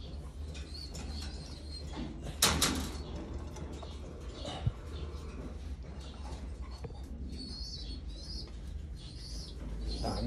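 Pigeons in a loft give low, soft cooing under quiet background hum, with a brief sharp wing flutter or clatter and a few faint scattered bird sounds.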